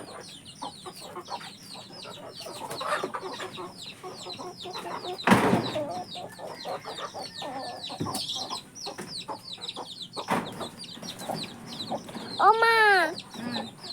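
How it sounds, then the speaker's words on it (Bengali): Hens let loose in a village yard cluck and chatter busily while a girl feeds them. A rooster-like call rises near the end, and a voice briefly speaks over the flock. "মুরগিগুলো ছেড়ে দিয়েছি, আর আমার মেয়ে ওনাদেরকে খাবার দিচ্ছে মুরগিগুলোকে"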